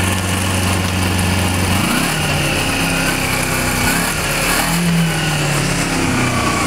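A 2012 Kawasaki Ninja EX250 motorcycle engine pulls up through the gears, its steady high-pitched drone dipping at each shift and climbing again, loud and continuous.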